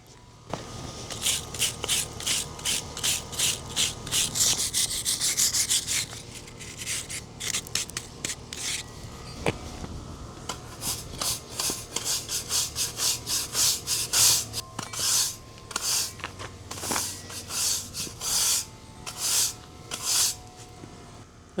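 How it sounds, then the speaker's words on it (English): A small brush scrubs out a crack in asphalt pavement, giving bursts of close, dry, gritty bristle scratching in uneven rhythmic strokes with brief pauses between them. "This is just the little brush that I'm going to use to clean out the crack."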